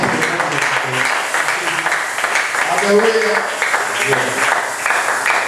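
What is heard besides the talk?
audience applause during a church sermon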